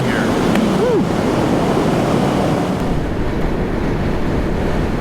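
Wind roaring inside a Scorpion EXO-AT960 motorcycle helmet while riding on the road, a loud, steady buffeting rush that fills the whole stretch with no break.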